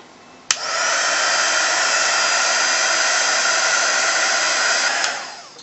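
A hair dryer blows on freshly applied DIY glimmer mist, clicking on and running as a loud, steady, close whoosh for about four and a half seconds before switching off and winding down.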